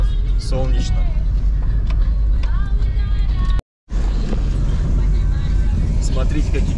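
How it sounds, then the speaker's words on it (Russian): Inside a bus carrying passengers on a sunny tourist day, a steady engine and road drone runs throughout while people talk nearby, with a brief cut of silence midway. "Вот мы на автобусе едем"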